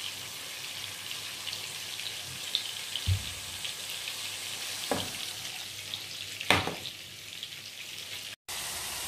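Tomatoes, coriander and onions simmer in a pan with a soft, steady sizzle and crackle, broken by a few sharp clinks and scrapes of a utensil against the pan.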